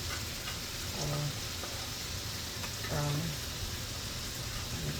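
Food frying in a frying pan during home cooking, a steady, close hiss and sizzle running throughout with faint spatters, while a voice speaks briefly in the background.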